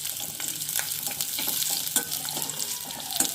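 Bhindi (okra) curry sizzles steadily in a hot pan while a spoon stirs through it, with scraping strokes and soft clinks breaking up the continuous close frying hiss.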